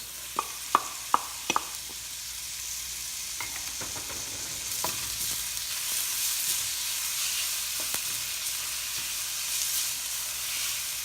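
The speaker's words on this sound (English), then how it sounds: "Now we can add our onions" Onions being added and frying in a pan for pork binagoongan: a steady hiss of oil under a few sharp clinks and stirring knocks, close and moderately loud, with no talking.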